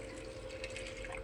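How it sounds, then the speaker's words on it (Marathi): Water poured into a cooking pot for a one-pot vegetable meal, a short, soft, continuous trickle heard up close with no talk. "ह्याच्यात थोडंसं पाणी अगोदर मी टाकून ठेवते."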